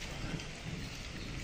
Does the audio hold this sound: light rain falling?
yes